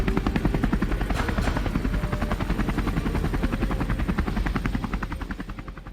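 A high-tech military surveillance helicopter flies close and loud, its rotor chopping in a steady fast beat with a constant engine drone that eases slightly at the end, alone without talk.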